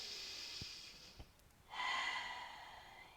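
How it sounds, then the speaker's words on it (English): Deep, slow breaths during a yoga grounding practice: a long airy inhale, a short pause, then a fuller exhale, all close and soft, with no talking. "And one last breath."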